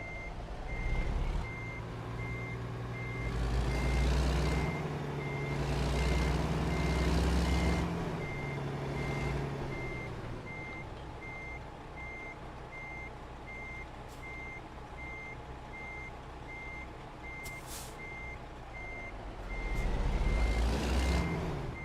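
A truck backs up in a parking lot, its reversing alarm beeping in a steady, evenly spaced series throughout while the engine rumbles loudly, eases, then rises again near the end.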